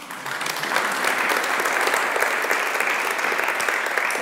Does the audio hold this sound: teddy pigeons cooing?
no